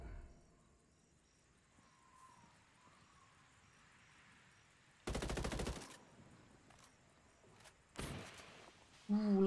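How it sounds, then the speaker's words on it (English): Gunfire in Ghost Recon Wildlands Ghost War, two sharp bursts of rapid shots standing out against a quiet backdrop of crickets and insect chirps, with another burst starting right at the end. "Takes shots of one, receiving shots from the other."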